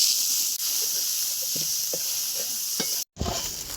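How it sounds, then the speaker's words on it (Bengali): Chopped onion sizzles steadily in a hot pan with a loud, close hiss, broken by small stirring knocks and one brief cut near the end. "পেঁয়াজ কুচিটাও ভাজছিলাম।"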